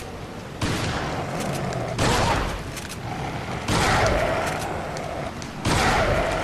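Shotgun blasts in the horror game Resident Evil 4, four loud booming shots at uneven intervals, each with a long rumbling tail, over a brief spoken remark.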